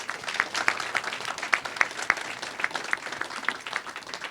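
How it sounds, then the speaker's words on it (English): An audience at a Silicon Valley edtech startup pitch night applauds the contestants, with steady, dense clapping that carries on evenly throughout and a few sharper individual claps standing out. "a round of applause for all of our contestants"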